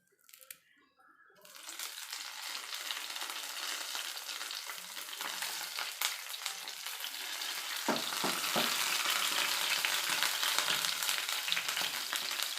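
Curry leaves dropped into hot oil alongside chillies for a potato and egg curry, a sizzle that bursts in after a quiet start and swells into a steady crackle, growing louder toward the end, no voices.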